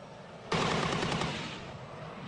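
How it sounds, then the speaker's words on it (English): A rapid burst of M1A2 SEP Abrams tank coaxial machine gun fire starts abruptly and rattles on for about a second before trailing off into rumbling echoes. "The coaxial machine gun fires at an astonishing rate of 500 rounds a minute."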